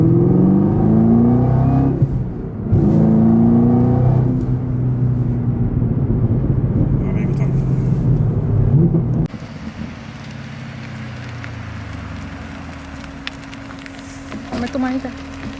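A 2022 Chevrolet Camaro ZL1 1LE engine pulls hard, its rising drone climbing in pitch over several seconds loud and close inside the cabin, then settling into a quieter steady cruise hum.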